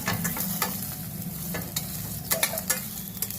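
Ingredients fry in a pan with an even sizzle, broken by several sharp spatula scrapes and clinks near the end, close and alone without talk.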